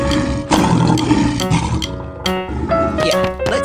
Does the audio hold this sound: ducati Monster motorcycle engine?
no